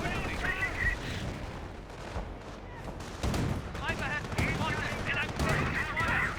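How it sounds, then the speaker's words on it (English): Mortar and gunfire in a Company of Heroes 1 match, Wehrmacht against US forces: dense bursts of shots and thuds keep going through the whole stretch, with the battle noise swelling louder near the middle and end. "That's actually a mortar."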